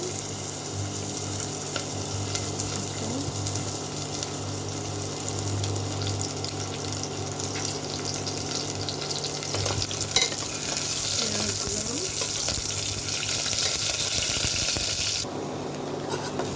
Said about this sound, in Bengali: ডালটা একটু ভেজে নিলাম, রসুন একটু রসুন, অল্প একটু রসুন বাটা